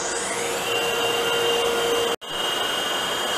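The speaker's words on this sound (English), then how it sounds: "And we can restart the pump," A marine reverse osmosis freshwater generator's pump runs with a steady, loud whirring hum and a high whine, cutting out briefly before resuming; no one speaks.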